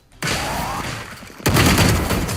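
Gunfire in the tactical shooter Valorant: a burst of rapid shots followed by a louder, denser volley of overlapping shots after a short gap, close and punchy with no voices over it.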